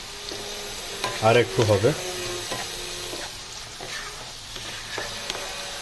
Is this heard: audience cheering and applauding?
no